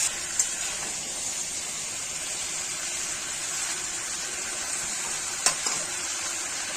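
Village-style mutton fries in a pan with a steady, bright sizzle throughout, broken by a couple of brief clinks of stirring, with no voices.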